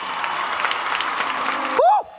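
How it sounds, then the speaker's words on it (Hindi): Audience applause welcoming a singer on stage at an awards show in Dubai, a steady dense wash of clapping that ends abruptly after about two seconds as a tonal swoop rises briefly. "जोरदार तालियां दोस्तों।"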